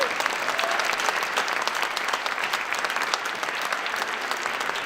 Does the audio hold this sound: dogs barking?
no